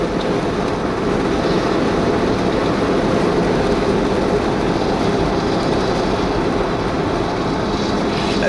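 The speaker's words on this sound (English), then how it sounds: "That is one heavy train." A very heavy freight train with six engines rolls past, producing a continuous, loud, even rumble and roar that holds steady throughout, with no voices.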